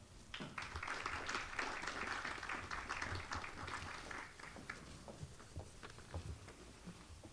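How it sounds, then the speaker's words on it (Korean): Sustained applause from a crowd at a city development public forum in Gwacheon, dense clapping that gradually thins into scattered individual claps. "큰 박수로 맞이해 주시기 바랍니다."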